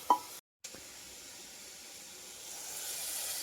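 Chopped carrots and beans sauté in a pan with a faint, steady hiss and sizzle after a short clatter, growing slightly louder toward the end.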